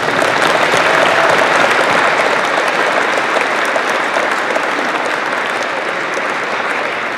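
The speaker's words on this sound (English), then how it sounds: "let's give them a big round of applause" A large dinner audience at a small business awards event delivers a sustained, loud round of applause, dense and steady throughout before easing slightly toward the end.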